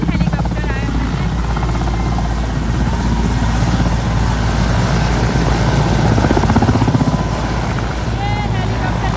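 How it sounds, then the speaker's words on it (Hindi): A helicopter's rotor thrums loudly and steadily as it takes off at the Darbhanga AIIMS inauguration, a constant close-up engine drone with crowd noise and voices faintly underneath. "ये वाला जो हेलीकॉप्टर है अभी उड़ेगा। 3 हेलीकॉप्टर आए हुए हैं।"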